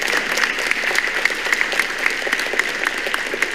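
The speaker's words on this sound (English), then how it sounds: "A big round of applause." Audience at a vegetarian congress applauding a speaker after a talk: brisk, steady clapping from a moderate crowd, individual claps standing out in a continuous patter with no talk.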